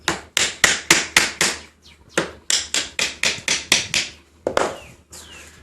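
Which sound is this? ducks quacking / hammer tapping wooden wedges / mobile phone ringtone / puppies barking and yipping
hammer tapping wooden wedges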